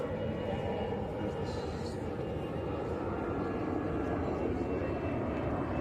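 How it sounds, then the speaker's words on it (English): An airliner passes overhead beneath a flight path near Urbanova, Alicante, Spain, producing a steady, moderately faint broad roar that fills the whole stretch. "We are literally under the flight path."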